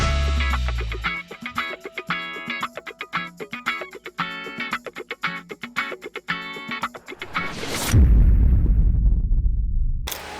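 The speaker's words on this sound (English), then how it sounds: "Let's hope this thing just fires up." A Duramax diesel truck engine cranks over rhythmically for several seconds, then catches with a loud booming roar and settles into a deep, rumbling idle, close and heavy.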